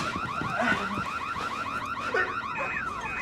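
Several car alarms blare at once, warbling and cycling electronic tones overlapping continuously, fairly loud and nearby.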